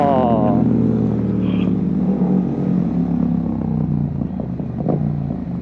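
A Honda Grom motorcycle skids in a skatepark, with a loud, close engine rumble and a rising rev at the start, then steady droning and clattering as the bike slides. Voices are faintly present beneath the noise.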